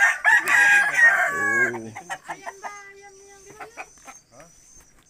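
Chickens of a grey-feathered breed kept by a poultry enthusiast: a loud rooster crow rings out up front, followed by a string of softer, spaced clucks, with someone speaking briefly.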